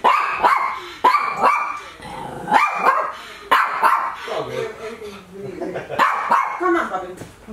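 Puppy yapping in short bursts close by, mixed with a person speaking softly over it, at a rental duplex in Cleveland's Tremont neighborhood.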